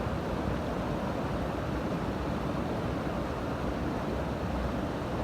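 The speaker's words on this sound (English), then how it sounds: "I'm down by a river here. You can see it's pounding water." Rushing river water pounding through an Irish forest park, a dense, steady broadband roar that stays loud and unbroken throughout, with no voices.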